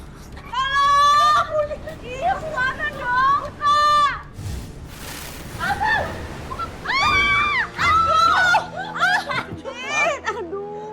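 Mother and daughter screaming repeatedly in a tense domestic scene, high shrill cries rising and falling in several loud bursts, with some talking between them.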